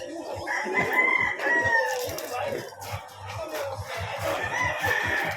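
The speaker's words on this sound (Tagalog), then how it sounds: "Yan, yung mga manok po. Pang stag show." Stag gamecocks raised for a stag show crow repeatedly, several nearby birds overlapping with clucks and rustling, while someone talks over them in the foreground.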